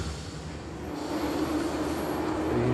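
A train from a played movie scene, a steady rumbling rail roar that builds slightly, with no talk over it.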